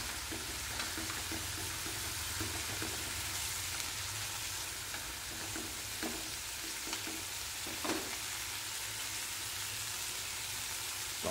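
Pineapple stir-fried with small shrimp and green beans sizzles steadily in a pan, a constant hiss with occasional scraping stirs, no voices.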